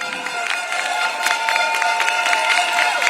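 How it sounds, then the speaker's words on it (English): A crowd at a PAP election rally in Yishun Stadium, Singapore, gives a round of applause with cheering, a dense continuous roar of claps and voices heard from a distance over the stadium's sound system. "Give them a round of applause."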